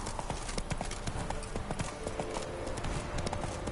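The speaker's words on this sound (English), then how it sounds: "Run, Roach" Rapid, steady hoofbeats of a horse galloping in a PS4 video game, loud and close with a continuous driving rhythm throughout.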